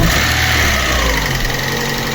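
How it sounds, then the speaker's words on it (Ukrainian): A Daewoo Lanos 1.5 8-valve engine after a head gasket replacement idles loudly and evenly up close, a steady mid-pitched drone with faint rapid ticking from a hydraulic lifter and no voices. "Моторчик працює рівненько,"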